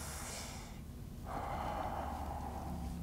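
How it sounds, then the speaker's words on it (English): A patient draws a deep breath during a lung exam, a soft breathy inhale rising to a steadier airflow, close and quiet. "Go ahead and take a deep breath for me."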